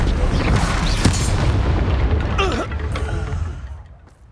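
Incendio fire spell cast in the Hogwarts Legacy video game, a loud booming whoosh that rolls out and fades over a few seconds, with layered game effects.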